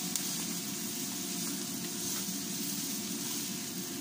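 Garlic sautéing in a pan with spring onion gives a faint, steady sizzle with light hiss, close and continuous, without talk.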